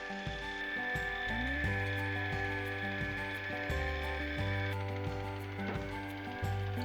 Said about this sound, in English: you notice I do have me a nice little can opener here